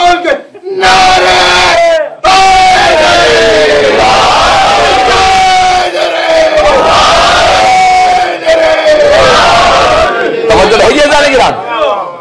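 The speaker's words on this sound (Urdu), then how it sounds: "دونوں ہاتھ اٹھا کے پنجہ کھول کے نعرے" A large crowd shouts slogans in unison with raised hands at a religious gathering in Pakistan, loud rhythmic chanted phrases rising and falling, with brief gaps between calls.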